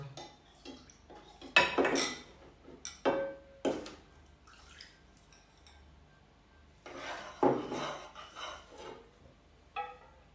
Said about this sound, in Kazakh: арнайы ыдысқа құйып, ыстық отта араластыру арқылы қайнатамыз